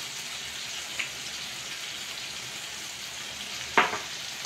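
Tomatoes frying in a pan, a soft steady sizzle close by with a light tap near the start and a sharper clink of a utensil just before the end.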